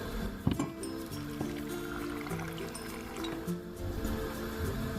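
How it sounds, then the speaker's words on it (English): Water poured onto ingredients for Nigerian ayamase stew, a quiet splashing trickle heard close with soft knocks and faint background hum. "I'm going to be adding water to this particular one"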